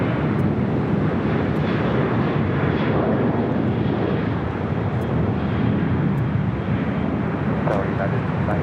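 A United heavy jet approaches an airport runway, its engines a loud, dense, continuous roar that stays strong for the whole stretch, with voices talking faintly underneath.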